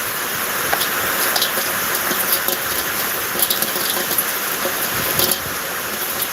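Heavy rain pours down in Zaheerabad, a steady broadband wash with brief splashy bursts throughout, loud and continuous with no voices.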